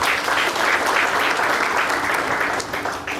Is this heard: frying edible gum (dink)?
no